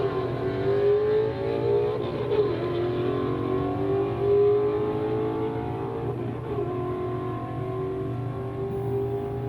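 A 2013 Boss Mustang from Richmond, California, runs down a drag strip, its engine note climbing through shifts in two rising sweeps and heard at a moderate distance.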